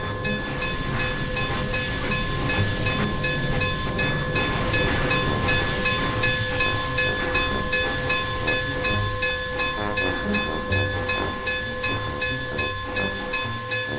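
A large Pacific Fruit Express freight train pulls away from a station in a Garry's Mod game, its air brakes faulty. A continuous hiss and rumble is laced with steady whistle-like tones throughout.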